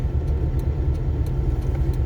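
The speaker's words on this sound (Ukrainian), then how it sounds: "Перепрошую за звук, машина гуде." A car engine hums while driving, a steady low drone with a faint rumble that stays even throughout, with no voices over it.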